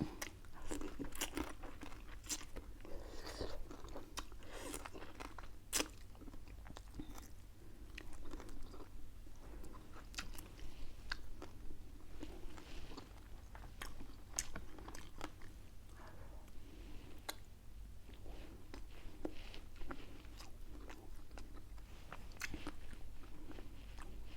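Close, quiet chewing and crunchy bites of a Thai rice-field crab lon dish, soft irregular clicks and mouth sounds spread through a long, otherwise hushed stretch.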